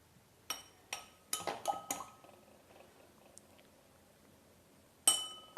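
A spoon stirs ginger-fingerroot herbal drink ingredients in a glass with a series of bright clinks, several in a quick cluster. A quieter pause follows before one final sharp clink near the end.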